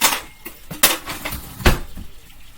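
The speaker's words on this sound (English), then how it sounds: "Need to get a clean fork out of the dishwasher." Several light metallic clinks and rattles as a clean fork is pulled from a dishwasher in a home kitchen, with sharp clatters of cutlery and dishes spaced a few times across a quiet background.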